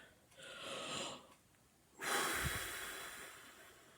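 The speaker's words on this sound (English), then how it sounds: "Let's try some in and out breaths" Close, slow breaths in and out through the nose and mouth, one soft drawn inhale followed by a longer, louder rushing exhale, with a faint sniffle and no talking.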